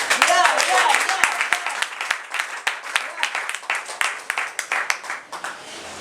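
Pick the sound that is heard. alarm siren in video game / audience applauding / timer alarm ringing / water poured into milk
audience applauding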